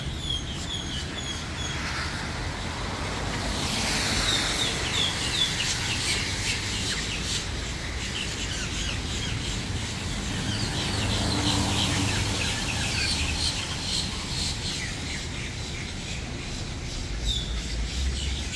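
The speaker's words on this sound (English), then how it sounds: "That's a bird on the tree." A dense, loud chorus of birds sings and chatters from a tree in Miami Beach, Florida, an unbroken wall of shrill calls with no talk over it.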